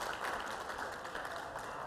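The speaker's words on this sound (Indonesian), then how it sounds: "kita berikan tepuk tangan" Audience at an Indonesian water and sanitation award ceremony clapping for a minister and a general on stage, a brief continuous wash of applause heard at a distance.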